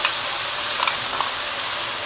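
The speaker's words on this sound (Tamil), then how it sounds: "நான் என்னோடய ஸ்டைலில் பரட்டுறேன்." Ground dried and green chili with garlic paste stir-fried in a pan while making bihun goreng fried rice vermicelli, giving a steady close sizzle with a few faint scrapes and ticks, no voices.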